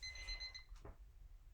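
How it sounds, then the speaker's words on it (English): A timer alarm going off: a short burst of high, electronic beeping lasting about half a second, followed by a faint thud, at low volume. "Timer, Faye, woohoo."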